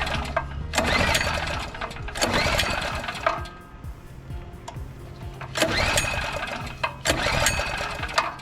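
A Generac GP3300 generator with old fuel lines, a likely dirty carburetor and the choke set, is cranked in an open garage. The pull-start and engine noise comes in repeated uneven bursts, fairly faint, with rattling and handling sounds between.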